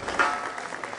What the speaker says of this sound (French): je vous demande un tonnerre d'applaudissements, s'il vous plaît